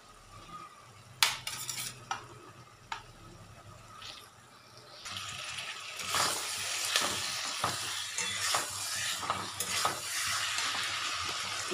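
Potatoes dropped into a hot spice masala in a pan, a few clinks and thuds at first, then a loud steady sizzle with repeated spoon scrapes as they are stirred and fried, close by.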